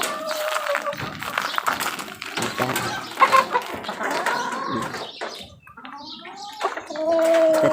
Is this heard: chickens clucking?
yes